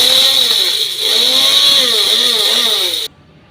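An electric mixer grinder jar grinds sugar, a loud continuous high-pitched motor whine with a churning, wavering drone, cutting off abruptly near the end.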